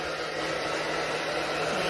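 A hair dryer blows steadily on a cat or dog, a continuous close whooshing hiss with a faint motor hum throughout.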